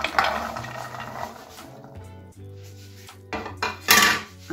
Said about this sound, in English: Want to put them inside the sufuria.